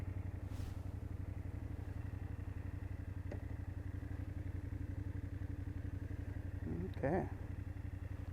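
A 2024 BMW F800GS motorcycle riding on a road, a steady low engine hum throughout, with a faint click and a short spoken word from the rider near the end.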